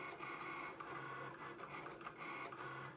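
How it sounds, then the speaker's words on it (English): Cricut cutting machine slicing vinyl, a faint continuous mechanical whir with rhythmic motor pulses as the carriage moves back and forth, quiet and steady with no talk. "Okay, and it's almost through cutting."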